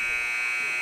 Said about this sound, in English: the buzzer expires, and that's the end of the first quarter